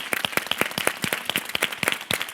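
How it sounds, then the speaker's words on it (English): A small audience at an arts event applauds Suzette Schellmeyer, sparse, distinct claps in a quick irregular rhythm, close and fairly clear, lasting only a couple of seconds. "I'd like to applaud Suzette."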